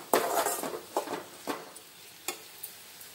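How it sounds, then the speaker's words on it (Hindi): Mushrooms and onion fry in a pan over a high flame, a soft sizzle broken by several distinct scraping stirs and light clinks of a utensil against the pan, close and fairly quiet. "और थोड़ा सा भून लेंगे तो ये हो जाएगा।"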